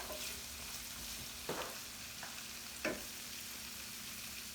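Grape tomatoes with black pepper sizzle in a pan for pasta primavera, a steady quiet frying hiss broken by a couple of soft stirring clacks.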